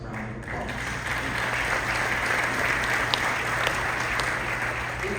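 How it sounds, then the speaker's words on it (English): Steady, dense applause from an audience at an award banquet, sustained and even throughout with a faint crowd murmur beneath, no one speaking over it. "Give yourselves a round of applause."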